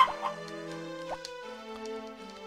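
Chickens in the Harvest Moon farming video game make short synthesized clucks and chirps over a steady looping tonal music bed, with a few brief blips scattered across a couple of seconds.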